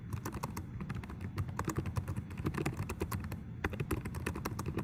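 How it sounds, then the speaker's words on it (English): Fast, steady typing on a computer keyboard, a dense run of close, crisp key clicks continuing throughout with no talking. "I'll type that up real quick and throw it in there for you."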